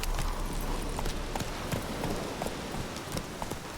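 Geralt's horse Roach trotting in The Witcher 3, a steady run of hoof clip-clops at close range over a low ambient bed, with no talk.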